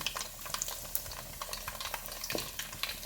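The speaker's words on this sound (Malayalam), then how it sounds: "ഇതിൽ നമുക്ക് ഇതിലിട്ടൊന്ന് വറുത്തെടുക്കാം" Hot oil sizzles and crackles steadily as asafoetida fries, with occasional scraping from stirring in the pan.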